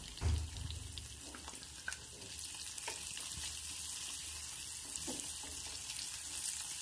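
Shallots and garlic fry in hot oil for thoothuvalai rasam, giving a soft, steady sizzle throughout. Occasional light clinks and stirring sounds come from close by, and there is no speech.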